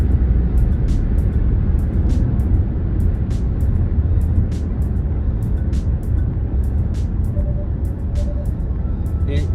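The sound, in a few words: Hyundai Sonata Limited car accelerating at full throttle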